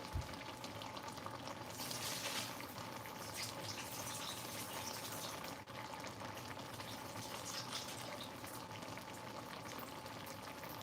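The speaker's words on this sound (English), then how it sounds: "All right, I'm going to go drain the water now." Water drains from washed rice (ruz) in a kitchen, a continuous bubbling, pouring hiss that stays fairly steady for about eleven seconds, close but soft, with no voices.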